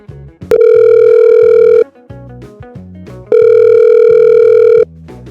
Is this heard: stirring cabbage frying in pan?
no